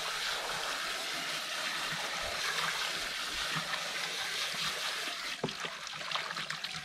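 Water trickling and splashing steadily in a blue bowl during gold panning, a continuous close wash of running water with a few sharper drips and sloshes near the end, no voices.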